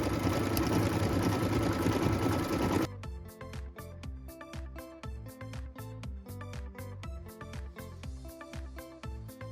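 An embroidery machine stitches a decorative leafy line, its needle pounding in a fast, even rhythm up close after a burst of broadband noise at the start.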